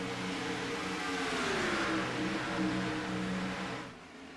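Video game stock cars racing at Charlotte whine and rev in a steady drone, pitch sliding up and down as they pass, then fading abruptly at the end.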